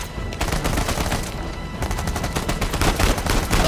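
Dense, sustained gunfire in the action game Uncharted 4, loud rapid bursts of automatic weapons firing continuously with no pauses, no talk over it.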